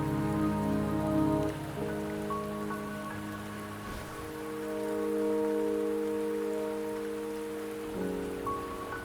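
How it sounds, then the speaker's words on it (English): Steady rain falling in the Wuthering Waves video game, a constant hiss of drops on surfaces beneath sustained music, with one soft thud partway through. "Don't worry, the rain won't last much longer."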